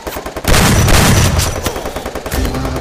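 Loud, close gunfire in Free Fire during a Clash Squad ranked match, a sustained rapid automatic burst followed by quicker sporadic shots.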